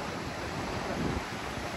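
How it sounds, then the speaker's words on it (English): Wind blows steadily across a rocky nook near flowing water, a broad and constant rush that buffets the microphone at close range. "And the wind is nice over here."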